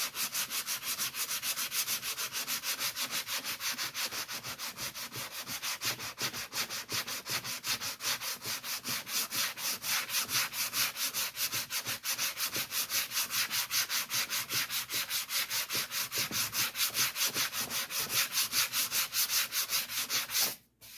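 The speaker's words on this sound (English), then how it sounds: "So I've already sanded here, and you can see it's a little bit darker here." A motorcycle saddle bag is hand sanded in fast, even back-and-forth strokes, a loud, close, rhythmic scratching that runs for about twenty seconds before stopping abruptly, with no talking.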